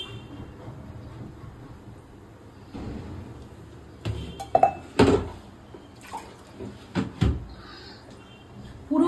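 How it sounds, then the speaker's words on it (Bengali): A green coconut is set into a small bowl in a kitchen and water is poured around it, giving a quiet watery wash broken by a few sharp clatters and knocks of the bowl and utensils. "এবার এই বাটিটার মধ্যে ডাবটা এইভাবে বসিয়ে দিয়ে কিছুটা পরিমাণে আমি জল দিয়ে দিচ্ছি।"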